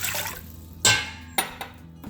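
Reverse osmosis water splashes and gurgles into a pot in a home kitchen while pickles are being made, in a few short bursts with clinks of the pot.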